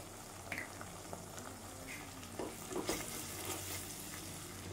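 Dudhi and chana dal bhaji masala with turmeric, red chilli and salt sautéing in oil in a pan, a quiet, soft sizzle with a few gentle stirring scrapes, no talking.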